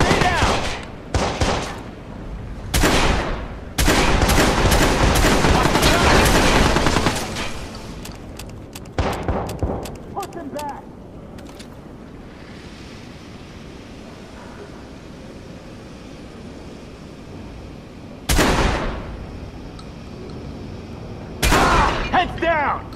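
Rapid bursts of gunfire in a Watch Dogs firefight, loud clustered volleys at the start and again later, with a quieter stretch between and shouted voices mixed in.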